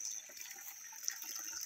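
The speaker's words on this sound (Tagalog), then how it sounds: "yan yung bukal, kabayan" Water flowing from a natural spring on a farm plot, a soft steady trickle and burble close by, brief and continuous with no talking.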